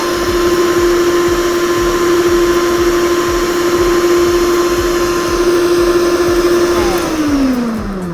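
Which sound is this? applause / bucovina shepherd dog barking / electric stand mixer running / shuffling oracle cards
electric stand mixer running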